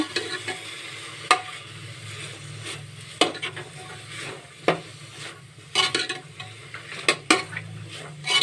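Vegetables with turmeric stirred in a pan for a three-vegetable palya, a continuous low sizzle punctuated by repeated sharp scrapes and clinks of a spoon against the metal, close and irregular.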